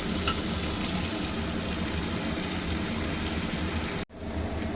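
Three chopped onions fry in oil in a pan, browning with a steady, close hiss and crackle of sizzling that holds even throughout, briefly cut off near the end.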